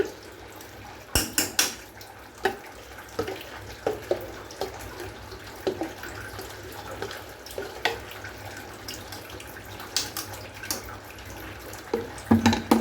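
Chicken malai kofta kabab is turned in a pan, with repeated light metallic taps and scrapes of a utensil over a soft background hiss, the knocks coming in an irregular series.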